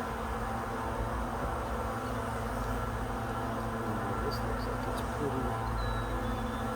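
Dense, steady buzzing of many bees swarming close around a newly set-up beehive, a continuous low drone with faint background noise and no talking.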